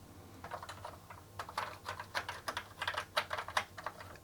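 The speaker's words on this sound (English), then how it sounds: "I'm going to test all the keys." Keys being pressed one after another on an Atari ST computer keyboard during testing, a steady run of close, crisp clicks in an irregular typing rhythm, building in pace, with no voices.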